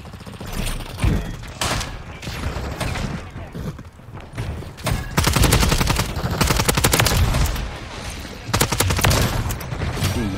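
Rapid automatic gunfire from Call of Duty MW3 fills the scene in dense, loud bursts, with rattling volleys and thuds overlapping throughout and a voice speaking briefly beneath.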